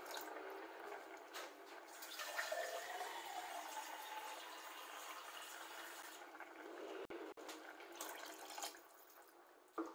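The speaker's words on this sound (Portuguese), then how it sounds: "Vamos colocar mais água." Water pours into a pan of risotto, a steady bright hiss and splash that runs for several seconds before tapering off, with faint kitchen clatter and no talking.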